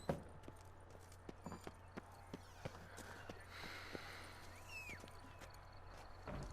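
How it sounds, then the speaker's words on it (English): A horse's hooves clip-clop in a steady walking rhythm in the Witcher 3 Blood and Wine video game, over a constant low ambient hum with faint bird calls, without speech. "Once again, my stupid horse."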